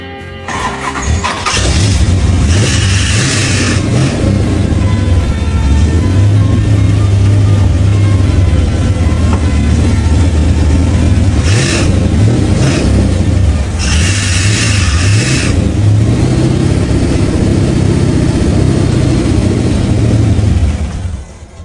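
A large-displacement motorcycle engine starts up close and loud, then holds a rough, heavy idle with several blips of revving across about twenty seconds, no voices over it.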